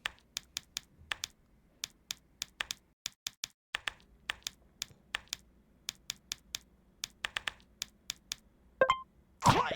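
Rapid mouse clicks while solving a CAPTCHA, sharp and close, come in quick irregular bursts with short pauses, ending in a couple of louder clicks and rustles.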